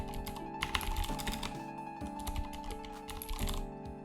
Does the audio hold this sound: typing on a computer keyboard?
yes